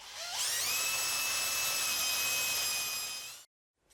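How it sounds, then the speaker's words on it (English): A lathe setup drives a centre drill into a workpiece while indexing the tailstock. A high steady whine spins up, holds for about three seconds and then cuts off sharply, close and loud. "I don't think anybody should be asked to see somebody drilling 24 holes"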